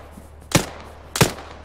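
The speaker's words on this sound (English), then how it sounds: "Right here in that gunfire." Two sharp gunshots from the video game Arma 3, about two-thirds of a second apart, each a loud broadband crack with a short tail over a low steady background.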